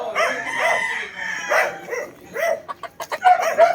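Backyard gamefowl stags in flying pens crowing, several overlapping cock-a-doodle-doo calls near and loud, followed by a string of short clucks and squawks.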